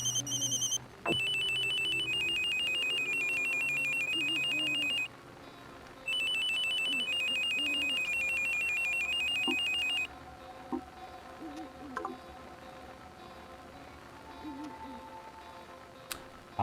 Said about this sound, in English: Let's change our ringtone.